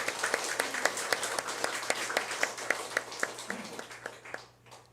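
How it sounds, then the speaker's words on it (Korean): Church congregation applauding the choir after a Sunday service hymn, sharp rhythmic claps at a steady pace that thin out and fade toward the end. "우리 찬양대들에게 격려와 감사의 박수 올리겠습니다"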